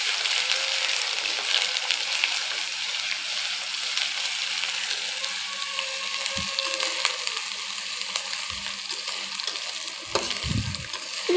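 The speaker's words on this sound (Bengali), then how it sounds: "পেঁয়াজটা একটু ভালোভাবে ভেজে দিচ্ছি।" Onion frying with onion paste and cumin paste in a pan while cooking mustard hilsa, a steady soft sizzle with occasional stirring scrapes and a few low knocks near the end, no talking.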